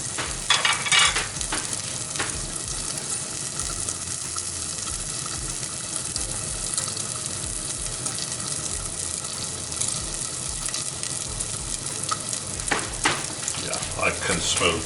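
Bacon strips sizzle and crackle steadily in a hot pan while cooking, with occasional stirring and scraping sounds; the frying stays close and moderately loud throughout, with brief louder bursts of spatter.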